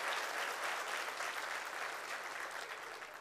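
Steady applause from an audience at a lecture, dense clapping filling the room evenly throughout, easing slightly toward the end.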